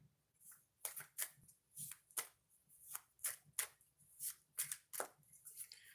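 Oracle cards shuffled by hand, a quick series of crisp riffling bursts in uneven rhythm, close and fairly quiet with faint background hum.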